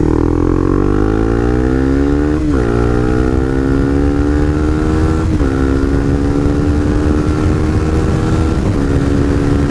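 A Honda CBR300R motorcycle accelerates hard through the gears, its engine pitch climbing steadily then dropping briefly at each of three upshifts; loud, close and continuous with no talking.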